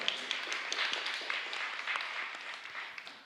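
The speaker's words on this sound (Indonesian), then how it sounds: "Tepuk tangan untuk beliau." An audience at an Islamic seminar on fiqh in the digital era claps steadily for a speaker, a dense, continuous wash of applause at moderate distance with no pauses.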